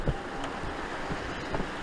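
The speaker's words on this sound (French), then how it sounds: "Et on a un petit vent 51 nœuds." Strong wind of about 51 knots at sea while sailing through the channel between Saint Lucia and Martinique, a steady broadband roar with buffeting microphone gusts and a few low thumps, no voices.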